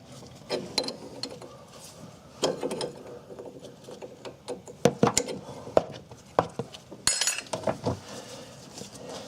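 A ratchet wrench loosens a 14 mm bolt during a Ford Escape brake hose replacement, giving repeated close mechanical clicks and clunks in uneven bursts, with no one speaking.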